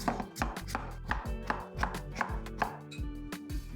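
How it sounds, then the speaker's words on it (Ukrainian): A knife chops rapidly and steadily on a cutting board, a close run of crisp, even strokes cutting potatoes into thin strips. "Нарізаємо, як завжди, соломинкою."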